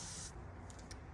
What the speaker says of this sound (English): I'm gonna spray it with some water